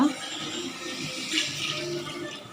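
Tamarind water is poured into sautéed okra in a pan, giving a steady liquid splash and hiss that lasts the whole moment, close and moderately loud, with no talk over it.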